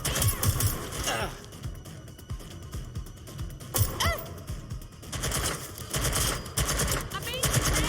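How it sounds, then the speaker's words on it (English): Heavy, sustained automatic gunfire crackles almost nonstop through a firefight in Watch Dogs: Legion, with loud rattling volleys and scattered impacts, and voices faintly under the shooting. "I'm getting shot out here!"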